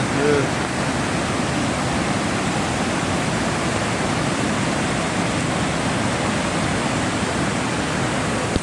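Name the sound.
Cheeyappara waterfall near Munnar, water falling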